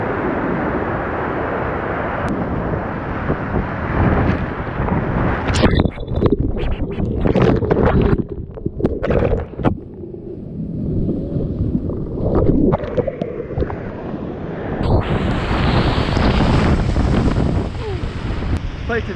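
Strong whitewater of a high-running Middle Kings River rushes loudly and continuously, broadband and churning, with wind buffeting the microphone, surging louder toward the end.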